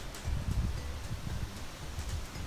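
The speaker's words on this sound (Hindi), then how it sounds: "ये देखें, हल्की हल्की बारिश लगी हुई है और बहुत तेज़ हवा चल रही है" Strong gusting wind buffets the microphone outdoors during light rain, with low rumbling bursts and rustling that rise and fall continuously and close up.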